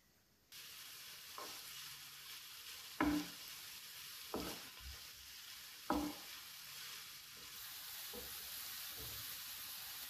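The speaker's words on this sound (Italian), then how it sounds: "Attendiamo qualche minuto finché la cipolla sia ben imbiondita." Chopped onion frying in a pan while being browned, a steady soft sizzle throughout with several sharp scraping stirs of a utensil against the pan at intervals.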